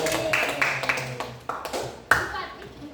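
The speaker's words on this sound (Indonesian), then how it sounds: "Tepuk tangan untuk temennya." Students in a school group counseling session on juvenile delinquency clap for a classmate, giving a few scattered, uneven claps under ongoing talk.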